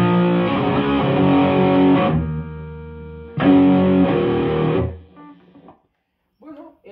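An electric guitar played through an effects pedal and a Fender Hot Rod Deluxe amp rings out two loud, heavily distorted sustained chords, each fading out, followed by a few faint plucked notes at the end.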